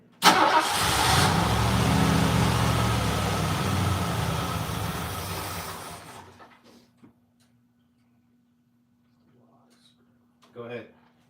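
An engine being run on a car with milky oil starts with a loud burst and runs steadily for about six seconds, then cuts out, leaving near silence broken by brief voices and a short sound near the end.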